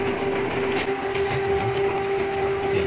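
A Canon IP2770 inkjet printer with a CISS ink system runs a nozzle check, giving a steady mechanical whir with a constant tonal hum and faint rattling clicks throughout, close by and unbroken, with no talking.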